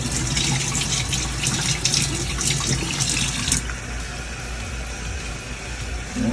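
Water runs steadily and loudly from a tap with a bright, hissing splash into a flour mix for fried dumpling dough, then the flow softens partway through over a low background hum.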